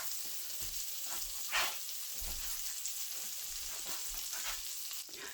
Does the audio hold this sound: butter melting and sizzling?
yes